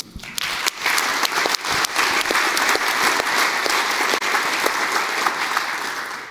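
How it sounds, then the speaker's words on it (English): Sustained applause from the audience at the closing session of a network operators' conference, a dense steady wash of many hands clapping, loud and continuous with no talking over it. "so huge round of applause to them"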